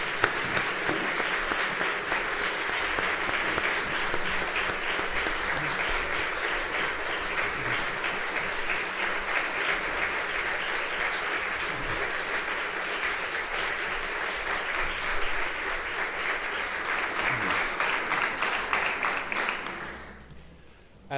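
Sustained, dense applause from a theater audience at a concert of music by LGBTQ+ composers, steady and loud for about twenty seconds before tapering off abruptly.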